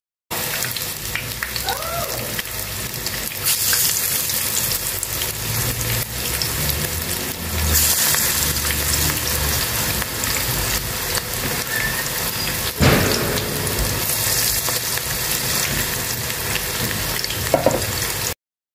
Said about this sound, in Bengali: সরিষা ফুলের পাকোড়াগুলি ভেজে নেব।